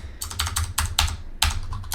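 Computer keyboard keys pressed for a Control and D shortcut while working in Unreal Engine 5, a quick run of crisp, close clicks in uneven bursts, no voices.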